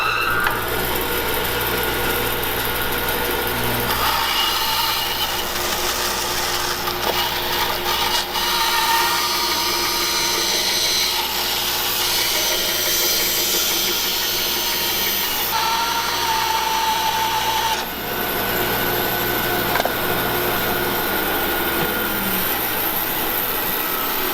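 A Harvey Alpha bandsaw resaws a piece of wood, a loud steady whine and roar of blade and motor running unbroken and close throughout, with no gaps or voices.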